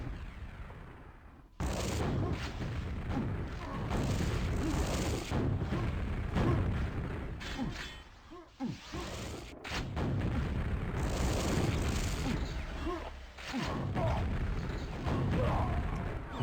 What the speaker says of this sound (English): Nice exchange of rockets.